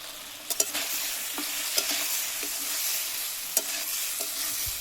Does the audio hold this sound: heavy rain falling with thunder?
no